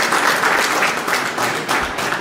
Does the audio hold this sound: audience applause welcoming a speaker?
yes